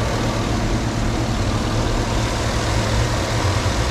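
A 2014 Cadillac Escalade Platinum Edition's 6.2L Vortec V8 idles in the open engine bay, a loud, steady low rumble heard close up without any talking.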